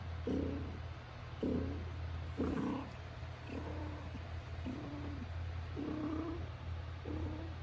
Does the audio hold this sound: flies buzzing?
no